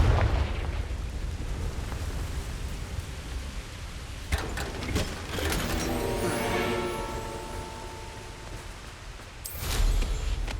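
A Confringo blasting spell explodes in the PS5 game Hogwarts Legacy, giving broad booming bursts over a dense rumbling game soundscape, with a sharp blast near the middle, a ringing tail, and another burst at the end.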